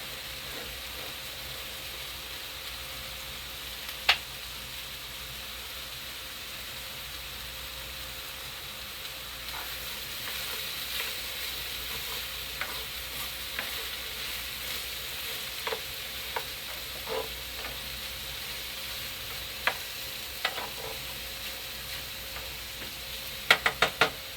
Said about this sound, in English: just going to stir these sauces and tomatoes in right quick